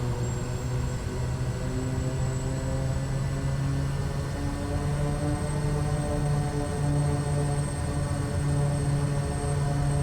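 Light bush plane engine in Flight Simulator, flying in Botswana, holding a steady, loud droning hum with a constant tonal whine and no clear change in pitch or level throughout.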